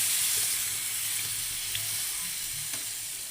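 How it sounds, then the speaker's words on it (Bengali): Sizzling vegetables in a pan as water goes in, mostly cauliflower and stems cooking down: a steady, close hiss and sizzle that holds evenly for a few seconds, with no talking. "এবার আমি জলটা অ্যাড করে দিচ্ছি"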